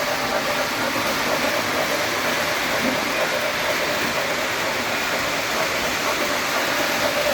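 Model trains running on a layout, giving a steady, dense rumbling hum that holds evenly throughout at close range, with no breaks or distinct clicks standing out.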